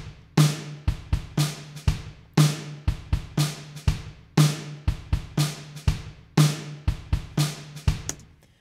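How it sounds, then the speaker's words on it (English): Kontakt Abbey Road Drummer kit through the room microphone channel, heard from a distance with roomy ambience, steady beats with repeated kick and snare hits ringing into the space, no voices. "the room sound of the kit is coming through here on the first channel"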